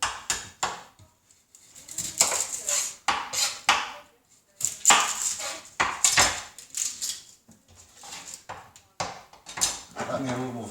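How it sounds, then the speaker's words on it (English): Knife chopping an onion on a board for home-style chilli, a series of sharp knocks in bursts with pauses in between, fairly close, with a person speaking at times. "So I'm gonna start with chopping the onion."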